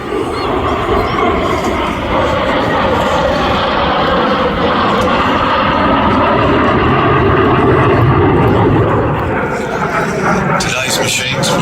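Pair of Strikemaster jets performing at the Midlands Air Festival display, a loud sustained engine roar that stays steady and full throughout, with a crowd-side commentator's voice faintly mixed in.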